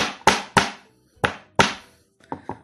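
Six sharp hammer strikes crack green olives on a hard surface, in quick irregular pairs with short pauses, close and loud with no talking.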